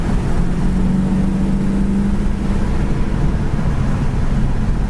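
A 1967 Mercury Cougar XR7 with a 390 V8 rolls down the road in third gear, a steady low engine drone and road rumble filling the cabin with a brief tonal hum rising early on, no one talking.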